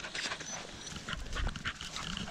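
A beagle being trained to run rabbits pants close by, a quick, steady breathy rhythm with a few louder bursts over faint outdoor background noise.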